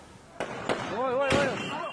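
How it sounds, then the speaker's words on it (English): Gunshots in violence-torn Manipur, India, during voting: three sharp, fairly close cracks within two seconds, with a wavering voice-like tone heard between them. "Gunshots rang out in India's Manipur"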